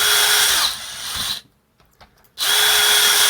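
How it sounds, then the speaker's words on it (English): A DeWalt power drill bores out heat-staked plastic posts while taking apart a LIDL air freshener, a loud, close, steady whine that stops for about a second and then starts again. "So I'm going to have to use a drill, and by sheer coincidence, I have my DeWalt"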